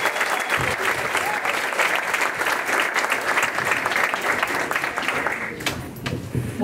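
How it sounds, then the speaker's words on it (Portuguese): An audience at a formal ceremony awarding the Tiradentes Medal breaks into loud, continuous applause, a dense wash of clapping that holds steady before thinning slightly at the end. "Então, uma salva de palmas, Dona Noêmia, obrigado."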